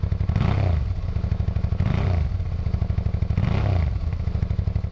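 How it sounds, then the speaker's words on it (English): A stock exhaust on a Suzuki DL650 V-Strom motorcycle idles with a deep burbling note, revving up and settling three times in a steady rhythm. "let's just take a little bit of a sound snippet of the stock exhaust"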